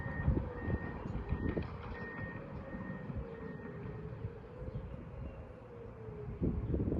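A Whelen WPS 2805 tornado siren sounds during an outdoor test in Nixa, Missouri, a steady far-off wail under heavy wind and low rumble, with a faint thin tone drifting in and out.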